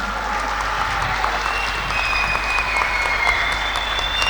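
Warm applause from an audience thanking two guest speakers at a journalism week event, steady clapping from a crowd with a faint tonal whine and low hum underneath.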